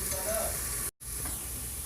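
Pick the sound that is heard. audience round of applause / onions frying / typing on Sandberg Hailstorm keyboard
onions frying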